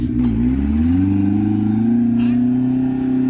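An imported 4x4 race rig at an off-road challenge event revs its engine, a loud, close, sustained mid-pitched roar that climbs and holds steady throughout.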